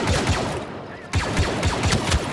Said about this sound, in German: Alter, was sind das für lasche Laserkanonen